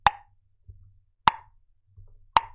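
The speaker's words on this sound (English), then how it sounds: "The Shield Pulsar periodically releases a shield affecting the surrounding building" Three short, bright plopping pulses from a Shield Pulsar defense in a base-building video game ring out at steady intervals, each a quick pop with a brief tail, separated by near silence and a low soft rumble.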